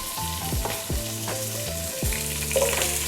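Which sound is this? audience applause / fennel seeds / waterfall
fennel seeds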